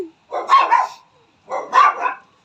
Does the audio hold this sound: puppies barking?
yes